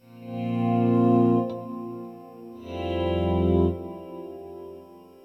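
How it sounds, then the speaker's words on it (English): Sustained electric baritone guitar tones drenched in equalized delay and lush convolution reverb, two long swelling phrases that ring out and trail off smoothly. "There's an equalized delay followed by convolution reverb, and it extends the sound very beautifully."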